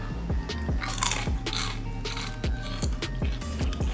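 Repeated crisp crunching bites into crispy smoked turkey skin in a steady rhythm, close and clear, with sharp crackly bursts and no talking.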